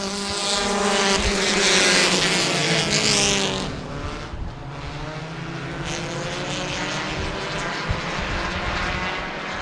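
Several Hornet-class race cars, small four-cylinder stock cars at a short oval track, roar loudly together on a green flag restart, engines droning and revving steadily with a dense, sustained mechanical buzz and no talk.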